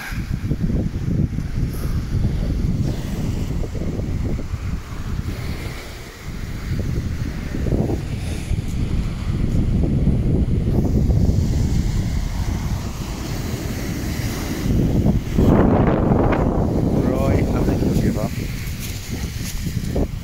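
Gale-force wind roars steadily at a seafront promenade in Lowestoft, Suffolk, with large waves surging and crashing near the microphone, buffeting wind noise throughout and a louder wave burst toward the end.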